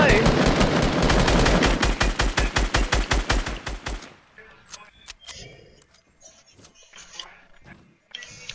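Automatic gunfire in Fortnite: about four seconds of loud, rapid evenly spaced shots, then sparse distant shots and clatter with voices talking quietly.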